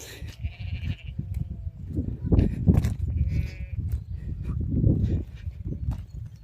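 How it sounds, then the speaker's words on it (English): Sheep bleat repeatedly in May lambing season near Scale Force waterfall in the Lake District, several clear calls at close to middle distance over a low outdoor rumble of wind or water. "Probably hear some sheep bleating."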